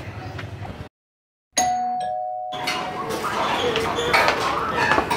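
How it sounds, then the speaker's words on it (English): A doorbell at a house chimes near and loud with a clear tone, then the room fills with excited voices and bustle. "Tara, mag-door bell na tayo."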